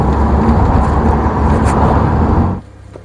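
A 2009 BMW Z4 with a 3-litre twin-turbo engine drives along with a steady, close engine and road rumble that drops off sharply near the end.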